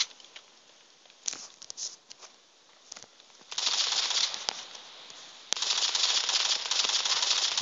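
Sharp scattered cracks of video game gunfire, then longer dense bursts of noisy shooting, fairly close and loud.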